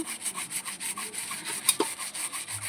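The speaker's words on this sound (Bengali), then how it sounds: "এরকম একটু ঘষে ঘষে মাজতে হবে।" A conch shell in a basin is scrubbed with a brush, making quick, rhythmic, close rasping strokes, about four per second, in a soft, even pattern with one slightly louder scrape near the middle.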